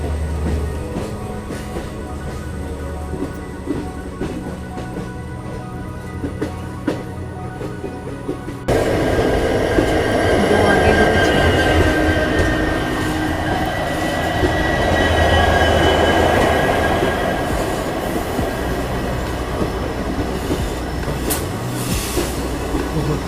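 A long goods train hauled by several locomotives rolls past Dudhsagar falls, a loud continuous rumble of wagons with rhythmic wheel clatter that swells midway and holds for over twenty seconds.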